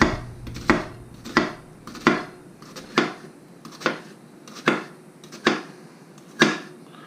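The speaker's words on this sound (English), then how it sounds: "You're going to take your onion, cut down this way." A knife dices an onion on a cutting board in about nine evenly spaced chops, each a crisp, close thunk against the board with a brief fade, no voices heard.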